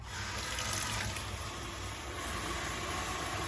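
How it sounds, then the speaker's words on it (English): Water pours steadily from a tap into a pot holding preserve jars of peach-skin jelly, a continuous, moderately close rushing and splashing fill with no talk. "Now I'm going to add more water to bring it up"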